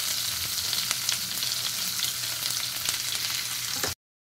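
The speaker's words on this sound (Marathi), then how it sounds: "कांदा घातलेला आहे" Chopped onion fries in oil with green chillies and curry leaves, giving a dense, continuous, close sizzle dotted with small crackles before the sound cuts off abruptly into silence.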